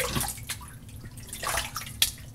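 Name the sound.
water splashing while rinsing lather off face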